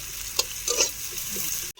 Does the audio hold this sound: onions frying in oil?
yes